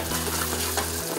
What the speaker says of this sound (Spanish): friendo